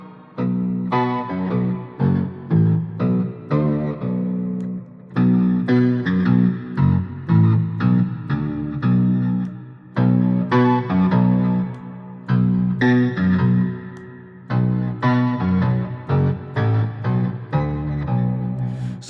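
An electric guitar through an octaver pedal plays thick, heavily processed notes with a deep doubled low end, strummed in short bursts with brief pauses between phrases.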